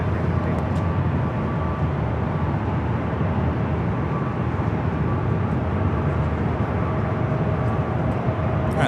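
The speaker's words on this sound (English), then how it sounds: "the Southwest flight is 737-800 heading to Tampa, Florida" A Southwest Boeing 737-800 takes off at LAX, bound for Tampa, Florida, its jet engines producing a loud, continuous broadband roar that holds steady throughout.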